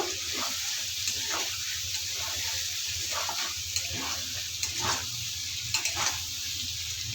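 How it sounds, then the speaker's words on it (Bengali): Cumin, black pepper and coriander sautéing in a pan for a pigeon and potato curry, giving a steady low sizzle with light scraping and stirring clatter throughout, no talking. "এখানে আমি জিরে গোলমরিচ ধনে একসাথে দিয়ে দেবো এইভাবে ভালোভাবে কষিয়ে নেব"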